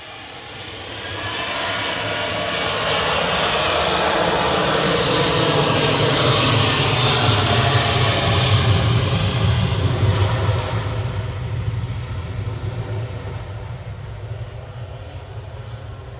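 A Boeing 737-800 departs Manchester Airport, its jet engines building to a loud sustained roar after the first couple of seconds, holding strong, then slowly fading as the aircraft pulls away; no talking.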